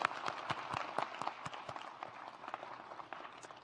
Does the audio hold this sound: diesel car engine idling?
no